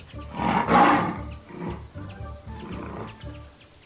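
A lion roars loudly and close, a powerful swelling roar followed by a series of shorter grunting calls trailing off, with no talk over it.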